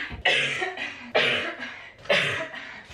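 Three harsh, chesty coughs from one person with a lingering cough of several years, evenly spaced about a second apart, loud and close with no talking.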